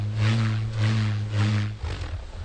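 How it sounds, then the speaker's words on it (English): A wooden bullroarer, an ancient ritual signaling device, spinning with a deep pulsing hum that swells and fades in about three slow cycles, loud and fairly close, with no talking. "a wooden device called a bull roar, used in ancient rituals to send signals over long distances"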